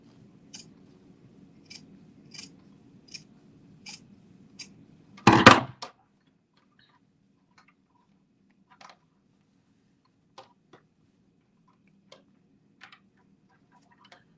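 Scissors snip fabric while a sewing pattern is trimmed, in a short run of evenly spaced crisp cuts, a louder rustle, then a few sparse softer snips in a quiet room.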